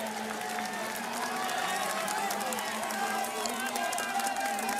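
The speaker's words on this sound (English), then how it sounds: "Van der Haar, though, being cheered on by the home crowd here" Home crowd cheering at a cyclo-cross race in Valkenburg: a steady wash of shouting and cheering from a distant roadside crowd, with commentary talking over it throughout.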